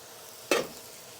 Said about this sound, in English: Start giving it a stir.